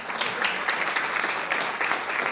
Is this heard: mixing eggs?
no